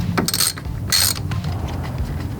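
A ratchet wrench loosens the 10 mm nut on the positive battery terminal of a Scion xB, giving short, close bursts of rapid clicking separated by brief pauses.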